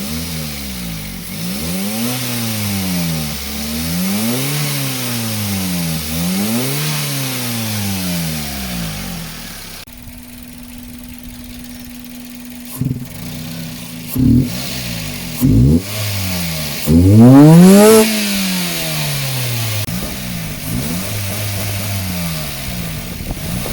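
Car engine fitted with a custom induction kit, revved repeatedly in rising and falling sweeps, then idling before several short sharp blips and one longer rev, loud and close with no talk.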